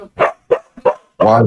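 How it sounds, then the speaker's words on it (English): A dog barks three times in quick succession, sharp and close, then a fourth longer bark overlaps with a voice speaking briefly. "pardon my dog barking"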